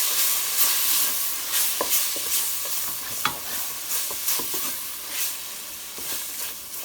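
Spices fry in a pan on a gas hob for chicken jalfrezi, a steady close sizzle punctuated by scattered clicks and scrapes of stirring.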